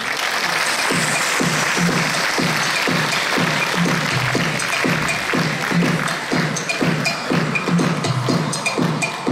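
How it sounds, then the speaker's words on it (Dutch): Steady, dense audience applause fills the hall at a fashion pageant finals night, loud and continuous throughout, with faint voices and a rhythmic low thumping underneath. "Geef ze een applaus, want we gaan starten met kandidaten nummer 1."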